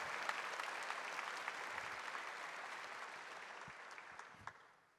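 A church congregation at Mass claps together in a steady, dense burst of applause that stays even, then tapers off at the end, heard from a distance and fairly faint.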